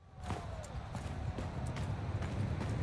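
Galloping horse hooves in the Mount & Blade II: Bannerlord video game, a steady rapid clip-clop rhythm over a low rumbling background, moderately loud and continuous with faint game ambience.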